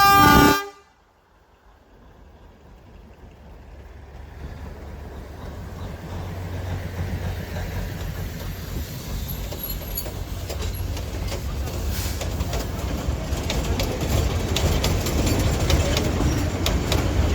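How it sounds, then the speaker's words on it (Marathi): A small tourist train at a popular sightseeing spot gives a short loud horn blast at the start, then a steadily growing rumble as it approaches and passes, with people talking in the background. "असली ट्रेन येत असली."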